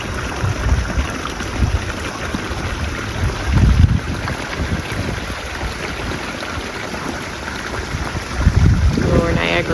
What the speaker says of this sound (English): A lot of water coming down from the snow melting and the rain.